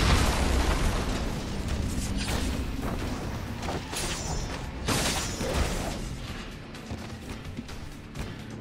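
Repeated grenade explosions in Marvel Ultimate Alliance 2, dense crashing bursts and booms layered over a constant loud rumble of game action, with no clear pause between blasts.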